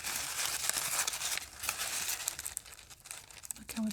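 Wrinkled old newspaper scraps crumple and crinkle close to the microphone while vintage marble chess pieces are unpacked, a continuous dry crackling rustle of paper that rises and falls in busy bursts.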